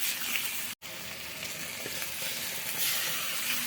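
Water poured into a hot pan of frying tengra fish, a loud continuous hiss and crackle of sizzling oil that stays strong throughout, with one brief cut.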